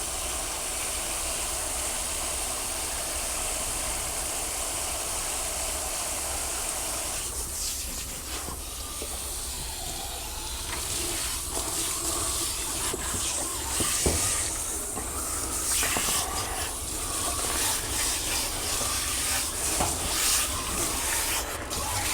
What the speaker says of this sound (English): Just thoroughly wetting her down, because once I put the shampoo on her, I really want it to take effect.